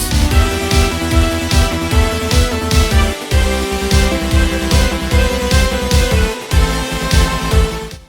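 Busy, energetic main level theme from the game Nomad Survival with a steady driving beat and bright layered synth tones, loud and continuous throughout with no voices.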